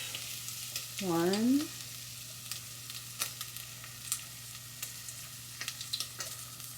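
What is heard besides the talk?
stirring food frying in oil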